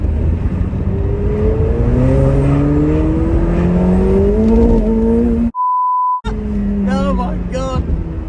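A rear-wheel-drive McLaren 720S accelerates hard with a loud, rising engine note through several gear shifts, a voice talks over it, and a censor beep cuts in partway.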